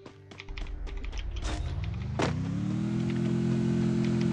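A car in the video game Free Fire starts up and accelerates, its engine tone rising steadily into a sustained loud drone, with clicks and taps over it at the start.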